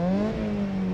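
A Mazda NC Miata fitted with a Racing Beat header, cat delete and tune drones through its exhaust in a steady, close engine note that dips briefly and then holds.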